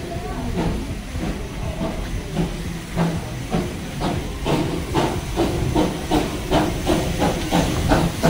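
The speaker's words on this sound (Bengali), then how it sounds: "ট্রেন ছেড়ে যাচ্ছে।" Darjeeling toy train pulling away from the station, a steady steam hiss running under rhythmic chuffs and wheel clatter that repeat roughly every half second and build slightly, with faint voices nearby.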